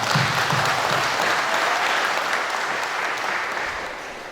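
Warm, sustained applause fills a church thanksgiving celebration marking the final stage of a renovation, a broad steady crowd clapping that holds loud for about four seconds before easing off slightly at the end.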